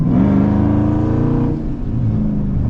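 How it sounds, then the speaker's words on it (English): A Dodge Charger Hellcat with an AWE track exhaust roars loudly as it accelerates, a deep raspy exhaust climbing in pitch, then briefly dipping before revving up again. "That's my AWE track exhaust on the back of this car right here."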